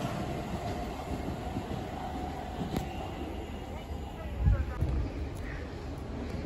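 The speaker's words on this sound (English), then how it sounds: "Something passed through behind. Oh, but it's another IET. Okay, it's another 802." A Class 802 IET train passes through Ealing Broadway station at night, a low steady rumble with occasional wheel clicks and a brief thump, heard at a moderate distance.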